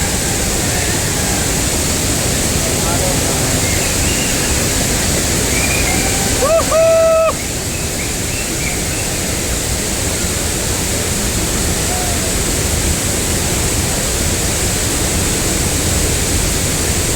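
Hogenakkal waterfall on the Kaveri river, a constant loud roaring wash of falling water with a brief voice rising above it partway through.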